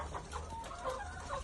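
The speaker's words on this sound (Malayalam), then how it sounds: "നമ്മുടെ ചെറിയൊരു കോഴിക്കൂടാണ്." Chickens cluck softly in a small coop, a steady murmur of low clucks and short calls at moderate distance, fairly quiet with no talking.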